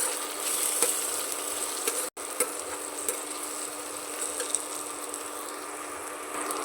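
Semiya upma with turmeric and chili being stirred in a pan, soft repeated scraping over a light sizzle, with one brief break in the sound.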